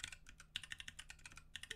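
Keys clatter on a computer keyboard in a quick irregular run of close, crisp clicks, pressed as a shortcut while working in the Sublime Text editor.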